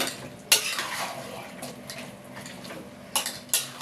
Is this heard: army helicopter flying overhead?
no